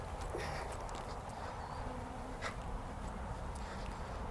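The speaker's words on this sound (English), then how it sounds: "I have a lot of bees now in the box" A swarm of bees fills a box after being dumped from a bush, giving a faint, steady buzzing hum over quiet outdoor background with a few light knocks.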